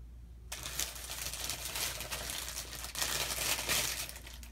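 Deco mesh being handled and crinkled up close, a continuous rustling crackle with louder bursts of crumpling, following a short quiet moment at the start and with no talking.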